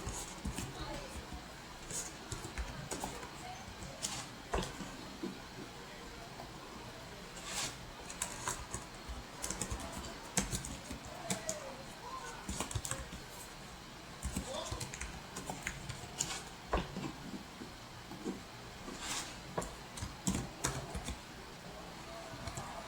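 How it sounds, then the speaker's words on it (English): Manual typing on a computer keyboard while entering labels in network lab software, producing a steady stream of soft, close key clicks with occasional sharper taps under quiet background noise. "I'm typing the manual these labels manually"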